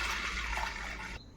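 Water pours steadily into a pressure cooker holding lentils, a close continuous splashing rush that stops abruptly near the end.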